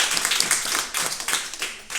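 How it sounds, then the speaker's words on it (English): A short burst of audience clapping for Alexander at a talk on the future of work, with distinct individual claps heard close and fairly loud across two seconds. "A round of applause to Alexander."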